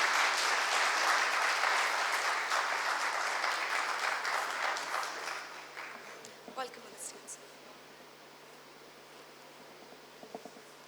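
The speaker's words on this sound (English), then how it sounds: "please put your hands together and welcome Shri Anurag Singh Thakur, the Member of Parliament, with a big round of applause" An audience at the TiECON Chandigarh 2026 entrepreneurship event applauds to welcome a keynote speaker. Dense clapping builds loud and close, then thins and fades into scattered claps and room murmur over about eleven seconds.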